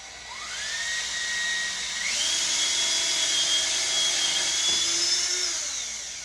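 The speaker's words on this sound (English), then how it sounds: "now I'm going to drill some starter holes." A Ridgid cordless drill bores starter screw holes in a stair railing post at close range, its pitch rising as it speeds up, then running at a high, continuous whine for several seconds.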